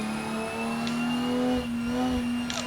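A drift car engine in a racing sim game holds a steady, loud high-revving tone throughout, with slight pitch dips around a clutch kick and gear change, and no talk.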